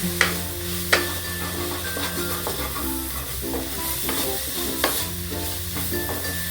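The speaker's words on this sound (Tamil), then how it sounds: "அப்படியே தக்காளி வதக்கிடும்." Masala and tomato sautéing in a pan for a spicy green peas curry, with a steady low sizzle and repeated sharp scrapes and clinks of a spoon stirring against the metal.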